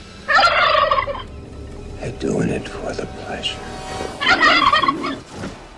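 Turkeys gobble loudly in two bursts on a homestead, with a person talking in between and distant bird calls in the background.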